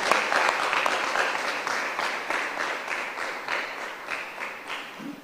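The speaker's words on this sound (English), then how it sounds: "Can we have another rousing round of applause for Dr. Jermaine McAlpin?" An audience at a high school founders' day lecture gives a round of applause, a dense, even wash of many clapping hands that slowly fades toward the end, with no talk over it.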